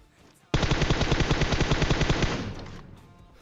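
Automatic gunfire in the video game PUBG erupts suddenly as one loud, sustained burst of rapid shots that ends abruptly and leaves a short fading echo.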